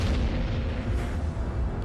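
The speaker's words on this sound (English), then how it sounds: "the star can no longer accommodate it, and it eventually explodes" A deep explosion boom stands in for an exploding star, heard as a heavy, sustained low rumble with no other sound over it.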